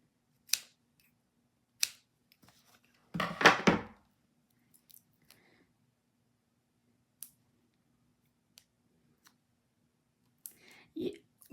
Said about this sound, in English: So I'm just gonna cut 3 pieces again.